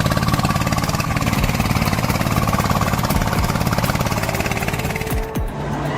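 A heavy logging tractor engine rumbles loudly and steadily nearby in a quiet forest, its rapid chugging pulse continuous, with a brief shift in tone near the end.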